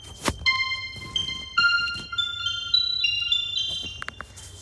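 Homemade ringing effect for a monster striking stalagmites: a run of bright metallic pings and sustained tones, each struck note ringing out over the last, with occasional thunks, close and clear, no talk.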